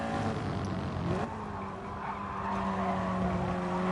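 An X-Bow race car in GT Sport rounding turn 4 at Laguna Seca, a steady engine drone with tyre squeal rising and shifting pitch through the corner, loud and continuous with no voices.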